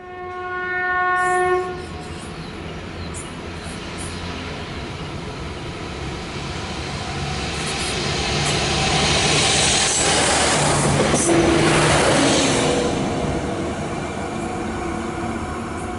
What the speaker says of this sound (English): These European-style DMUs, or diesel multiple units, are Siemens VT642 Desiros